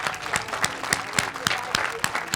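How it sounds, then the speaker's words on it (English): An outdoor audience claps for the 8th graders at a school moving-on ceremony, steady crisp clapping from a moderate crowd filling the whole moment. "let's give our 8th grades one big round of applause"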